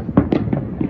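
Neighborhood fireworks go off in Long Beach on July 4th, 2020, as a rapid run of four or five loud, booming bursts close together, with no voices.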